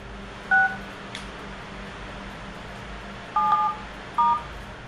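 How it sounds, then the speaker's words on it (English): A phone keypad dials a number with short DTMF tones: one beep, then a pause and two longer tones close together, alone against a steady background hiss. "the phone appears to wait until Michael is nearly finished recording before dialing a completely different number"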